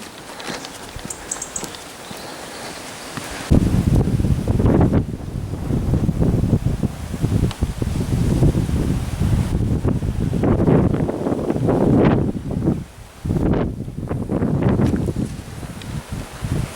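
Strong wind gusts buffet the microphone on an open hillside walk toward the Clwydian range in Wales, a loud continuous roar that surges after a quieter opening and keeps rising and falling throughout.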